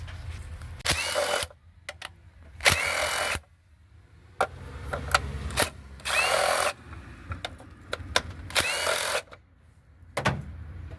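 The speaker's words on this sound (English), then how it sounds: "remove these 4 10 millimeter bolts here" A power tool spins out 10 millimeter cover bolts on a 2012 Honda Accord or Acura TSX 2.4L engine, firing in about five short, loud, close whirring bursts with quiet gaps between them.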